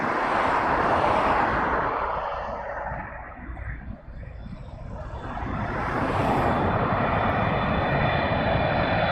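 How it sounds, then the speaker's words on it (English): A Qatar Airways jet departing Heathrow: a powerful, loud engine roar that dips briefly in the middle and swells again, with broad rumbling noise and no clear talk. "I'm keeping an eye out for the Qatar departing behind me"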